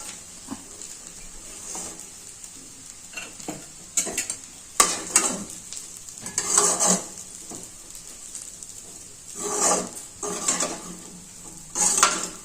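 Food frying in a pan is stirred with a utensil that clanks and scrapes against the metal in repeated bursts over a soft sizzle, close and fairly loud.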